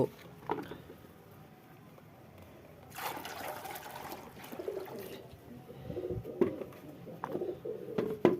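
Pigeons cooing softly inside a newly built loft, low intermittent coos mixed with shuffling, fluttering movement and a little splashing as they drink from freshly poured water.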